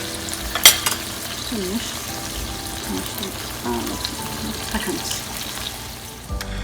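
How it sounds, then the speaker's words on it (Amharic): A burger bun toasting in a pan beside a cheese-topped beef patty gives a faint, steady sizzle with light scraping, over a low murmur in the background. "ዳቦንም ትንሽ እንደዚህ አድርጌ እንደ ቶስት አረጋዋለሁ አብሬ ማለት ነው።"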